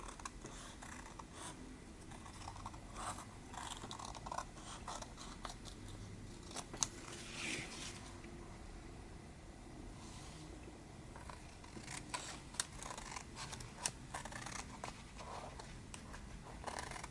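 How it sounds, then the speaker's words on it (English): Scissors snip through paper for a junk journal folio insert, making faint, scattered crisp cuts over a quiet, hissy background, close by but soft, with no voices. "So we'll cut this part."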